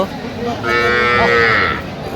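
A cow at a busy cattle market gives a single loud, close moo lasting about a second over a murmur of background crowd noise.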